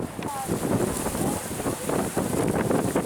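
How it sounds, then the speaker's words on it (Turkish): Strong wind roars and buffets the microphone at a wildfire site in Datça, Turkey, a continuous rushing gust that swells and eases over a few seconds. "Çok kuvvetli bir rüzgar var arkadaşlar."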